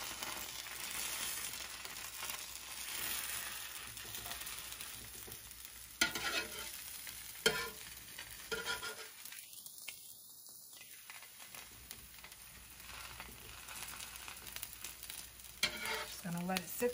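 Cheese-filled birria tortillas crisp in a pan, a quiet, steady sizzle with occasional sharper pops and crackles, and a short dip in the middle where the sound thins out.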